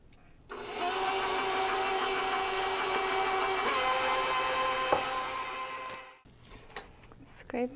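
A stand mixer beating cookie dough as eggs go in gives a loud, steady motor whir with a rhythmic mechanical hum. It runs for about five seconds, shifts pitch briefly, then cuts off, leaving a few soft knocks.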